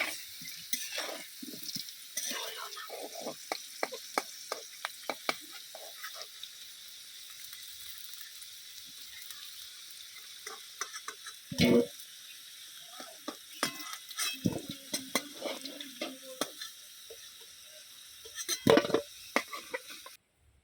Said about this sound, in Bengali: এইভাবে লাল লাল করে আমি আলুগুলোকে ভালোভাবে ভেজে নেব।